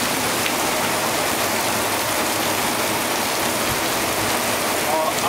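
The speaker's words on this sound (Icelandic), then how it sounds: "Þetta sem sagt rigning í Tælandi," Heavy tropical rain in Thailand pours in a steady, dense hiss with no breaks, loud and close, a constant wash of drops from start to end.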